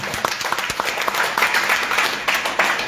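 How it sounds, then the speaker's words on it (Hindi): A seminar audience claps loudly and continuously, with sharp individual claps standing out of a dense, close wash of applause for a few seconds. "एक बार जोरदार तालियां बजा।"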